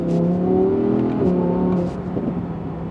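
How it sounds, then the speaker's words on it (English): The naturally aspirated engine of an Audi R8 Performance revs in third gear, heard from inside the car as a loud, continuous, rising engine drone with no talk over it. "Because it's naturally aspirated, I'm on my third gear right now, and I'm just gonna keep revving it for you guys."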